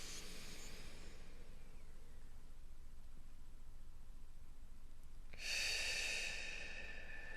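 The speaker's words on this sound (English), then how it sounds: "join me whenever I pause for a deep breath." Slow, deep breaths near the microphone during a meditation exercise: a long hissy exhale fading out, then a sharper, louder inhale toward the end, with no talk.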